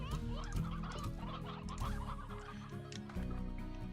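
Stony hens from the video game Slime Rancher cluck steadily over constant game music, soft chicken-like calls blending into the background with no voices.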